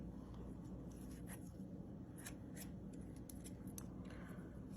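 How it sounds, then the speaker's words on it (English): Kitchen scissors snip through bologna, producing quiet, rapid crisp cuts in a run close by, faint against a low steady background hum, with no talking. "get our handy dandy kitchen scissors, and we're just gonna cut this too. We're gonna cut it up into little pieces."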